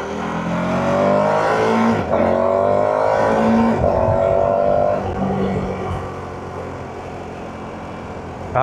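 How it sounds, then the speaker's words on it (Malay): A rough-running three-cylinder car engine revs in a series of rising pulls, each climbing in pitch before dropping back, loud and close, then settles to a steadier idle near the end. "Tapi engine dia kasar lah."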